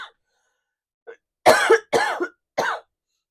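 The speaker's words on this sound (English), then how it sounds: "excuse me, I'm going to cough." A person coughs: a faint throat sound, then three loud, close, chesty coughs in quick succession, each separated by brief silence.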